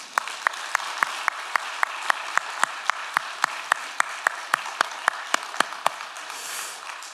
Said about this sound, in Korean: 우리 성가대 1년 동안 수고했어요. 또 앞으로 수고할 겁니다. 박수 한번 치십시다.